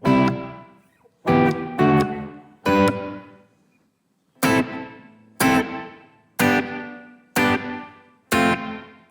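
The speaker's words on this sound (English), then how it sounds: "All the way to the left, you're going to have a very short reverb trail." Guitar strummed through a Revelation Reverb 2.0 pedal with the decay at its shortest, about eight crisp chords, each ringing briefly and fading quickly into silence, with a pause after the first three.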